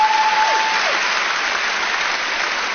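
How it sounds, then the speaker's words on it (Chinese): An audience applauding at a Shanghai Yue opera theme evening, a loud, dense, steady clapping that fills the whole stretch, with a brief faint whistle-like tone near the start. "来，掌声欢迎"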